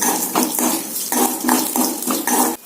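Metal utensil scrapes and taps against a pan in a quick irregular rhythm, stirring sizzling curry leaves and tomato, with no voices.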